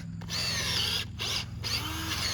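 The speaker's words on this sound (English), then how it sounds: "Just drill down a couple inches." A power drill fitted with a spade bit bores a couple of inches into lawn soil to loosen it before grass seeding, running in loud, close bursts with brief pauses between and a whining, gritty tone.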